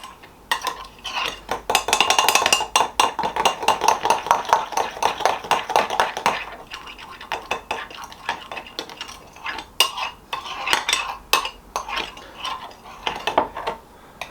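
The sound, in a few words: mixing flour, salt and butter in a bowl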